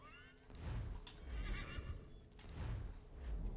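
A horse in the video game Assassin's Creed III whinnies loudly up close, with a long rising neigh followed by snorts and a second shorter whinny, alone with no talk.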